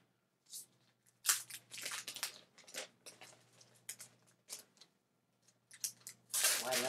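Protective plastic film being peeled off the aluminum body of a new 2.4 GHz MacBook, giving a run of crackly, tearing strips close up, in irregular bursts with short pauses between pulls.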